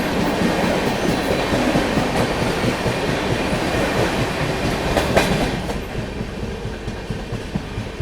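The 12556 Gorakhdham Superfast Express rolls on rails with a loud, steady rumble and rhythmic wheel clatter heard from on board, easing slightly in the last seconds.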